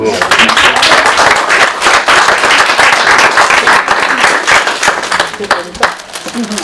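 An audience at a care home New Year ceremony in Malestroit applauds a retiree, with loud, dense, sustained clapping and voices talking over it.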